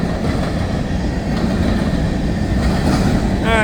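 A mixed freight train of tank cars and hoppers rolls past near Baldwin, west of Jacksonville, Florida, as a loud, steady rumble of wheels and cars, with a faint squeal near the end.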